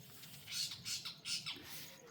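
A peacock calls outdoors in a village, three faint, distant squawking cries in quick succession over low background noise.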